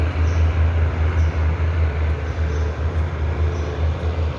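Steady low rumble of a train pulling away from the elevated Khon Kaen railway station, a continuous deep drone with faint rattling, no talking.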